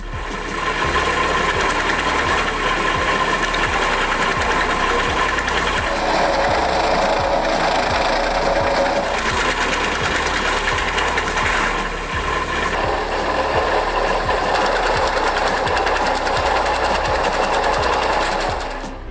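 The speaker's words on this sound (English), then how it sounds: "It cuts wood into precise lengths ranging from 120 to 180 millimeters." A firewood cutting machine cutting wood into short lengths runs with a loud, rapid mechanical chatter and engine drone, steady and close throughout with slight shifts in tone as pieces are cut.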